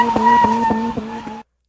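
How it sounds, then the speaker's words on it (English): Mazda Miata doing donuts in an empty parking lot, tires squealing in a sustained pitched screech with rhythmic pulses as the car circles, loud and close, cut off abruptly. "That's the sound of a dude doing donuts in a very empty parking lot in his Miata."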